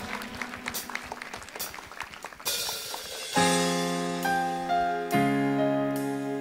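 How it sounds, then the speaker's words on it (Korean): A church congregation claps during an evening worship service, a dense patter of applause for a few seconds before sustained worship music with steady chords swells in and takes over. "우리가 하나님께 영광의 박수를 드립시다."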